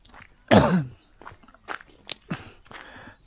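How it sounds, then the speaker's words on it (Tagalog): A person coughs once hard, followed by a few shorter throat-clearing coughs, close up with no speech. "inuubo-ubo ako dahil sobrang lamig talaga kagabi"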